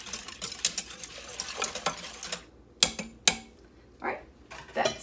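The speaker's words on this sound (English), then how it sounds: "we're just gonna whisk that in just to make sure that yogurt's incorporated" A whisk stirring yogurt into milk gives quick, light clinks and scrapes against a metal pot, coming in bursts and then separate taps, close and fairly quiet, with no talking.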